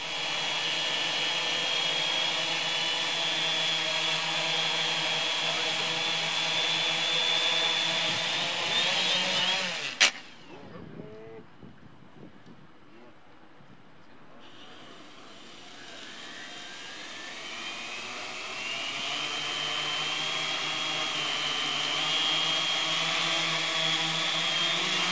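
Quadcopter motors on a test flight make a loud, steady buzzing whine that cuts off abruptly with a sharp knock. A quieter stretch follows, then the motors spin back up to a continuous whine.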